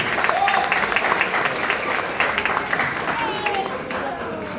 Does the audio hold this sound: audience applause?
yes